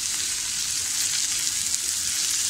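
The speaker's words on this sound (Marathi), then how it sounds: "बघा आता आपला कांदा छान परतून झाला आहे" Chopped onions sautéing in a pan for egg bhurji give off a loud, steady, hissing sizzle that stays even throughout, with no voices over it.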